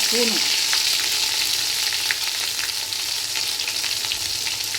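Ginger garlic paste fries in hot oil in a pan for a boiled raw mango pickle, a close, continuous sizzling hiss with faint stirring taps and no talking.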